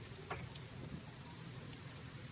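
Very faint, steady patter of rain with a soft continuous hiss and a few scattered drops, quiet and distant.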